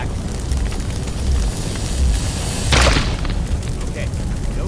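A backdraft fireball explosion in the Firefighting Simulator video game erupts as a single deep boom partway through, rising briefly above a steady bed of game background noise.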